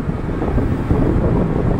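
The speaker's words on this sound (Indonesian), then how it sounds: "Hujan, angin sangat kencang di atas sini ya, di atas ini kencang sekali angin." Strong wind and rain buffet an open upper deck of a passenger ship at sea, a steady loud roar of gusting air and microphone rumble with no break and no voices.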